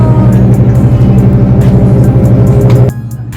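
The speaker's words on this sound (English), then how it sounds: "We are in the bus to Cap de Formentor." A bus engine drones steadily and loudly from inside the cabin on the road to Cap de Formentor, Mallorca, then drops away sharply near the end.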